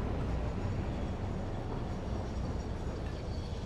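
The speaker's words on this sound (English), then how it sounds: "Man, the big heavy trains, they take a lot to stop." A heavy train in the Satisfactory video game brakes toward a stop, producing a loud, steady rolling rumble that holds without a break throughout, with no voices.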